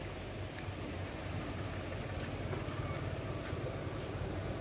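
A car engine idles steadily after being restarted, a continuous low rumble close by with no talk.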